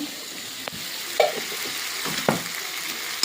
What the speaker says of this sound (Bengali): মশলাটা তলে লেগে যাচ্ছে, তার জন্য একটু জল দিচ্ছি